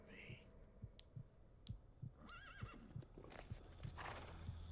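Horse in the video game Metal Gear Solid: Peace Walker gives a quavering whinny midway through, over a steady rhythm of clip-clopping hooves, fairly quiet and close.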